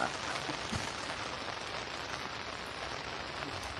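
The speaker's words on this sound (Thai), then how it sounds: "ฝนตกฝนตกเลย" Rain falls steadily on a surface during a fishing trip, a close, even patter of drops that keeps going with no talk.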